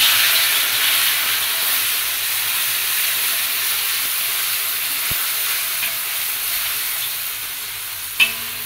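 Spice paste frying in hot oil gives a steady, dense sizzle and hiss throughout, with a brief sharp clatter near the end and no talking.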